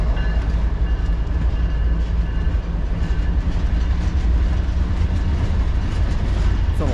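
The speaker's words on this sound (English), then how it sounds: "CSX manifest of the day." A CSX manifest freight train rolls steadily past eastbound, led by an ET44AH and an ES40DC locomotive, with continuous loud rumble and rhythmic wheel clatter close by.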